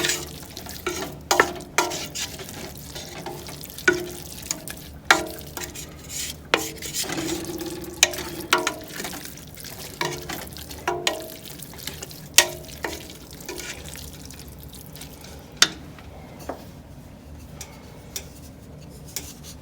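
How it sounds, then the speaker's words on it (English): Flour mixture being stirred in a pan, a steady soft scraping and swishing with repeated clinks of a utensil against the pan, close up under a light cooking sizzle. "Gotta be sure to stir this in, make sure there's no lumps."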